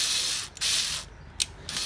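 Ratcheting and rubbing from a wrench loosening the 8mm bolt on the induction pipe clamp of an R34 Skyline 25GT-t engine bay, in close, steady scraping bursts with short pauses between strokes.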